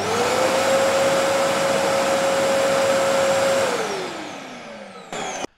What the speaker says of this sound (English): The display remains at zero even when the vacuum cleaner is running